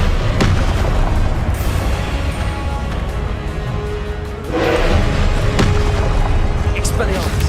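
Confringo explosion spells cast in Hogwarts Legacy land as heavy booms and bursts in a loud, busy game soundscape, with a big blast midway and a shouting voice over the action.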